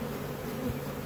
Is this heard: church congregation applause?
no